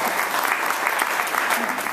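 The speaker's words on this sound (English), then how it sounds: "So I think we have to give Jenna a little round of applause" Dense, steady applause from an audience at an evening design talk fills two seconds with a loud, continuous wash of clapping that neither builds nor fades.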